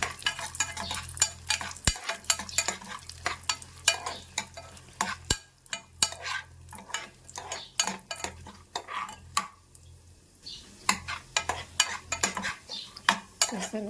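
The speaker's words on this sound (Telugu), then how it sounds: "జీడిపప్పు ఇవన్నీ మనం ఫ్రై చేసేద్దామండి." Cashew nuts fry in a pan for sweet pongal made with flattened rice and moong dal, a ladle clinking and scraping in rapid, irregular strokes over a soft sizzle, close up.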